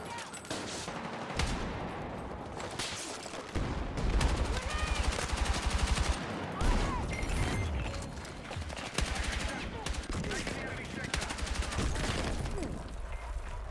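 Battlefield 6 gunfire crackles in rapid automatic bursts and scattered shots at close range, with a player's voice talking over the shooting.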